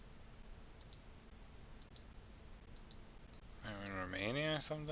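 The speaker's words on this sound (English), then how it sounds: "This has been a lot of clicking" Sharp, faint mouse clicks in small pairs, spaced about a second apart, during a GeoGuessr game, with a voice starting to talk near the end.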